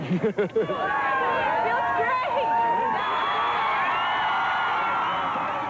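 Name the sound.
crowd cheering at movie premiere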